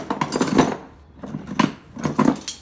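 Metal gear wrenches clink and jangle together on a carabiner in a toolbox, three short bright bursts of rattling close up, with no talking.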